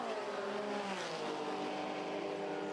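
Classic Porsche race cars roaring down the straight at the Le Mans Classic, a loud, steady engine drone with shifting pitch that fills the whole stretch without a break.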